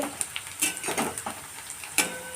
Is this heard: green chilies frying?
yes